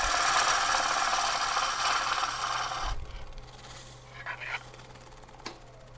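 A lathe gouge cuts into a spinning figured English walnut bowl, a loud, rough continuous scraping for about three seconds, then quieter lathe hum with a few light scrapes.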